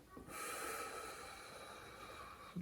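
A single long, deep exhale during a stretching exercise with a massage ball, close and soft, lasting about two seconds with no talking.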